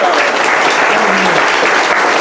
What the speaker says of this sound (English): Would you please join me in a round of applause for the volunteers